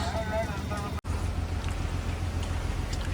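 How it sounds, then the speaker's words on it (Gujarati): Heavy pouring rain on a fishing boat at sea during a storm, a dense steady wash of noise broken by one brief dropout, with a low rumble underneath. "મિત્રો વરસાદ તમે જોઈ રહ્યા છો કેવો ધોધમાર આવે"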